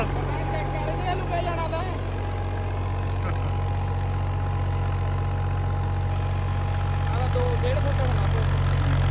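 Massey 254 4x4 tractor running in a field, its body sunk deep in the soil, gives a steady, loud low engine drone and idling rumble throughout, with faint voices in the background.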